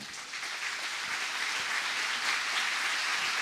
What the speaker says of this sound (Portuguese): Aplauda bem forte ao Senhor.